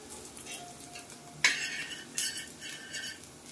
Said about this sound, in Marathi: तेलात आपण सगळे मसाले घालून घेऊया. हे बघा, आधी सर्वात हिंग घालूया.